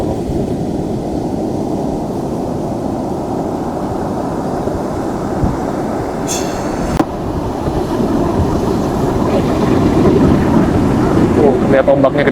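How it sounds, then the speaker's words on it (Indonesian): Big ocean waves roll and crash continuously at a turtle conservation beach at Pangumbahan, Ujung Genteng, forming a loud, broad roar that swells toward the end, with a brief thump midway. "Lihat ombaknya gede banget"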